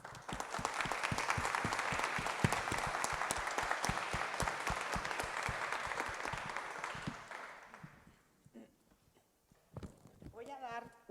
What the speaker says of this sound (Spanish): con un aplauso a nuestras invitadas y a nuestro invitado especial